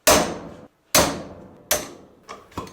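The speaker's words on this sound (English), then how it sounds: "This one was really hard as well, but I'm hammering this thing out." Sharp metal hammer blows striking a clip on a Kawasaki KX250 dirt bike rear shock during a rebuild, three strong ringing hits roughly a second apart followed by two lighter taps, close and loud with no talking.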